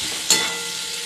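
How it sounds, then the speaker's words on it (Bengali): Oil sizzles steadily as prawns fry, with a brief sharp crackle and stir near the start, then a constant hiss close by. "এই যে চিংড়ি মাছগুলো ভাজছি"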